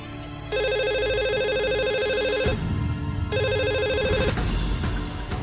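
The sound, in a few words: telephone ringing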